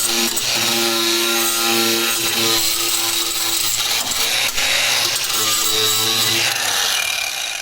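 A FedEx 40-volt cordless grinder works on a car body panel, giving a steady, loud whine with tonal harmonics and a continuous gritty rasp that briefly dips and changes pitch partway through, with no speech.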